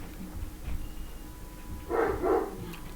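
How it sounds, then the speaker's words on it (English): Dogs barking somewhere off in the distance, two short bursts close together near the end over a low, steady room hum. "I'm gonna wait for the dogs to stop."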